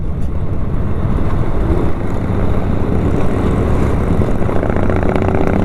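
A Harley-Davidson motorcycle engine rumbles loud and close during a group ride, its exhaust a dense, continuous roar throughout.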